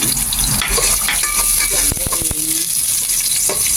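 Onion and garlic sauté in hot oil, a loud close sizzle broken by several sharp scraping clanks of a utensil stirring the pan, no voices.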